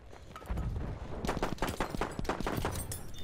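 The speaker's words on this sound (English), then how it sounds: "I'm still getting shot in the back." Rapid bursts of Battlefield 1 gunfire crack in a dense cluster, loud and close, with repeated sharp shots stacking over a rumbling battlefield background.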